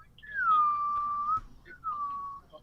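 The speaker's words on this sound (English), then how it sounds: "Oh, he's whistling." A single person whistles a sustained tune, two long drawn notes with a short gap between them, clear and close over a low background rumble.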